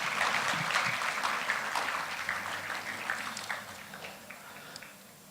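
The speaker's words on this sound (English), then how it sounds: "may I humbly request another round of applause" Audience applause for guests of honor at a gala dinner and banquet, a steady wash of clapping from a large room that tapers off near the end.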